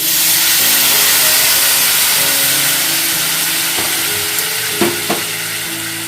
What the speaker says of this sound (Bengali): এর মধ্যে একটু গরম জল দিয়ে দিচ্ছি